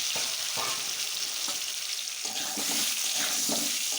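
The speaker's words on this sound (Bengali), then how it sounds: "তেলটা গরম হয়ে গেছে এই যে গোল গোল করে আজকে অন্য ধরনের আলু কেটেছি একদম গোটা তো এগুলো একটু ভেজে নেব" Whole potatoes cut into rounds fry in hot oil, making a loud, continuous close sizzle with a few scraping stir strokes on the pan.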